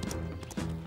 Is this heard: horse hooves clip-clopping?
yes